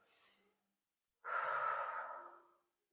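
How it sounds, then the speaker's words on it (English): Two slow diaphragmatic breaths taken in a quiet room: a short, soft breath at the start, a pause, then a longer, louder breath that swells and gradually fades, with no talking. "take some diaphragmatic 360 breaths"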